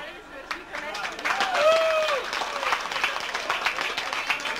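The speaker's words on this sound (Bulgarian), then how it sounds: "И защо пляскаха накрая?" Audience applause in a school hall, from a 1989 class ball, a steady wash of clapping with crowd chatter, a brief whistle-like tone and voices mixed in throughout.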